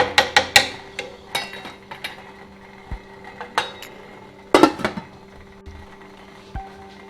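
A utensil scrapes and clinks against a cooking pot as lentil cottage pie filling with bay leaves is stirred, making a series of short, sharp metallic knocks. They come in irregular clusters, close up, with no speech.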